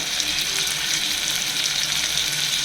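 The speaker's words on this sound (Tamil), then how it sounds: "இதெல்லாம் ஆட் பண்ணிப்போம். நல்லா வதக்கிட்டோம்." Onion, garlic and curry leaves sautéing in a pan for a sambar rice dish produce a loud, steady, close sizzle and hiss throughout, with no talk.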